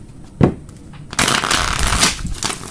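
Tarot cards being shuffled by hand, with a brief riffle followed by a longer, steady rustling burst of shuffling, close and fairly loud.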